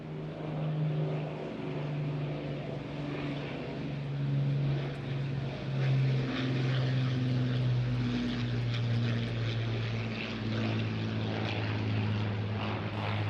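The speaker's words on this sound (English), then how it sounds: "Lancaster starts another pass" Avro Lancaster bomber on a display pass at the Eastbourne airshow, its piston engines giving a steady droning hum with wavering tones, loud and sustained overhead.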